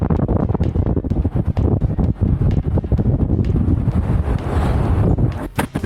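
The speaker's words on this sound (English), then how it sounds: "There are 55-mile-per-hour wind gusts that are pelting this room." Strong wind gusts of about 55 mph batter a Cancun hotel room during a hurricane, a continuous loud roar of buffeting and rattling with sharp knocks throughout, no voices.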